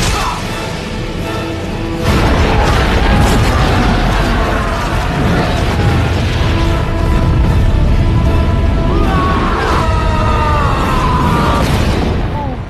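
A huge gunpowder explosion in The Scorpion King film booms loudly and rolls on as a continuous, dense roar of blast and debris, with faint film sound layered beneath.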